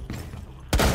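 A single gunshot in Rainbow Six Siege, a sharp loud blast near the end after a short quiet moment.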